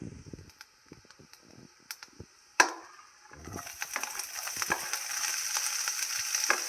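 Garlic, ginger and cumin fry in a pan for pasta. Scattered clicks and scrapes give way to a steady, moderate sizzle that builds and continues, with no voices.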